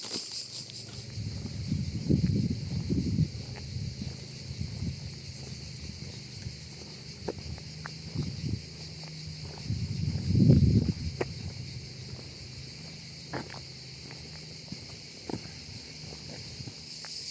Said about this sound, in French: Un repos bien mérité avec le chant des cigales.